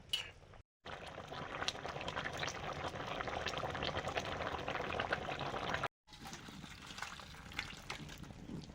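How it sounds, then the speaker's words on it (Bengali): Fish curry gravy bubbles in a covered pot on the stove, a soft, continuous burbling boil with faint liquid gurgles, broken by two brief silent gaps. "ঝোল ফুটে গেছে, মাছগুলো দিয়ে দিচ্ছি।"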